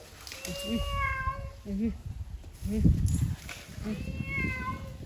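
A cat meows several times, drawn-out and wavering, close by, while people talk quietly in the background.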